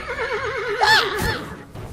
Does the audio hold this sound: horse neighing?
yes